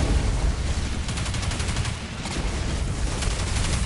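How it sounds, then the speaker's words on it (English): Enemy gunfire in Destiny 2 arrives as a loud, dense burst of rapid automatic shots, close and continuous, with a fast rattling rhythm over a roaring backdrop. "he's shooting at me now"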